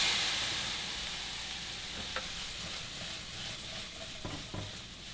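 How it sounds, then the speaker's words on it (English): Peaches sizzle loudly in a pan on high heat as a teaspoon of vanilla goes in, with a strong burst of hiss at first settling into steady frying and a few soft utensil taps, no voices. "I have this pan on high heat right now. I'm gonna add a teaspoon of vanilla."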